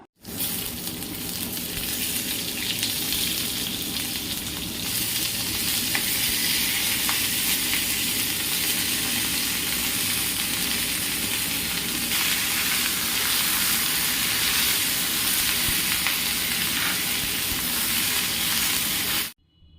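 Green chillies, torn by hand, fry in hot oil for a tomato chutney, producing a loud, dense, continuous sizzle that runs almost the full length without a break and with no voices.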